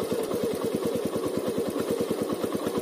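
Motorcycle in first gear as the clutch is slowly released with no throttle, a steady, even thumping engine beat at low revs, close and continuous.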